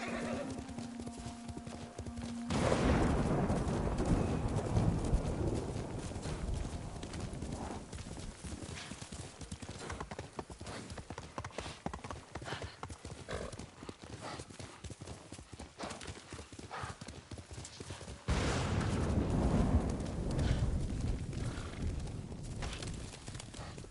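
Horse hooves gallop in Ghost of Tsushima in a fast, continuous clip-clop that runs nearly the whole time, with a whinny near the start and the rhythm loudest in the opening and closing stretches.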